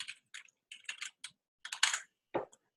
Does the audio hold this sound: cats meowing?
no